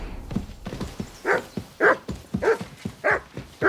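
A dog barks in the medieval role-playing game Kingdom Come: Deliverance 2: a steady series of about four or five short barks, evenly spaced and fairly close, over a low background murmur.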